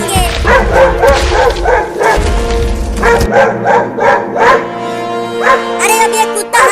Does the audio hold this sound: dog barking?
yes